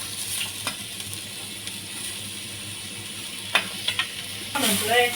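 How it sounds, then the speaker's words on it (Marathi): Grated carrot for halwa sizzles in ghee in a kadai, a steady frying hiss broken by a few scraping stirs, with a voice briefly starting up at the end. "आता आपण हलवा परतून घेतोय तुपात"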